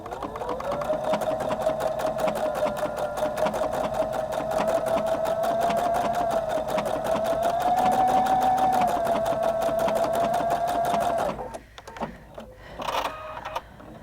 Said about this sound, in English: So I'm going to stitch it one more time.